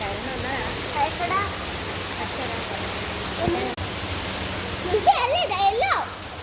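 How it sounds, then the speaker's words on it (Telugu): Heavy rain pours down in a dense, even hiss that runs throughout, with people talking over it now and then. "వర్షంలో అయితే చాలా పెద్ద వర్షం పడుతుంది."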